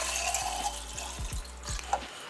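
Liquid plant feed is poured from a larger batch into a small 1-litre watering can, a steady, fairly quiet pour with low gurgling glugs and light splashing.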